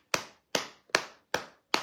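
Five sharp, separate hand claps land at an even, deliberate pace, each crisp and close with a short decay and silence between them.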